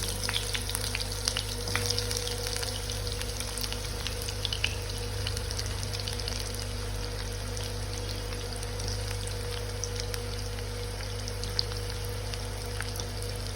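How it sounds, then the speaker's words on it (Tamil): Sliced onions frying in hot oil give a steady, close crackling sizzle with scattered tiny pops, holding evenly without a break and with no voices. "எண்ணெய் நல்லா காஞ்சிச்சு. இப்போ நம்ம இதில் ஆனியன்ஸ் போட்டுக்கலாம்."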